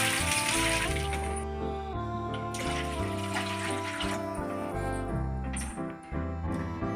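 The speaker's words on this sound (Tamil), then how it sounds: "ஒரு 1 லிட்டர் தண்ணி ஊற்றிக்கலாம்." Water runs and splashes steadily into a kadai as about a litre is poured for cooking macaroni pasta, a continuous close pouring with no talk, tapering near the end.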